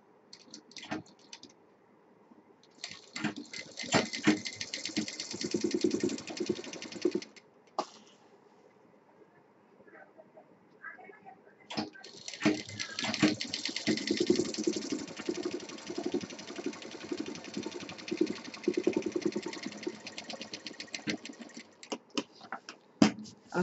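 A sewing machine stitches a cloth pocket for a party purse in two long, rapid, rattling runs, with a quiet pause between them and close, steady mechanical clatter.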